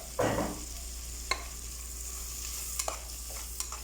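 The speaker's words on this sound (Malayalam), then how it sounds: "എല്ലാം കൂടെ നല്ല രീതിയിൽ വഴറ്റുക" Sliced onions and spices sautéing in a pan give a soft, steady sizzle with a few quick spoon scrapes and taps spread through a few seconds, fairly quiet and with no voices.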